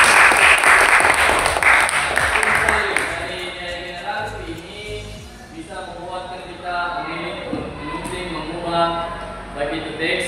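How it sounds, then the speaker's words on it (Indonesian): Audience applause at an on-the-job training session, loud broadband clapping for about three seconds that fades into continued talking in a voice over lighter scattered claps. "Tepuk tangan dulu."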